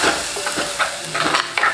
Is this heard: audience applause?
no